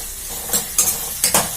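Dried chillies and kudampuli (Malabar tamarind) frying in a pan as the base of a fish curry, a soft continuous sizzle broken by four quick scraping stirs, close by.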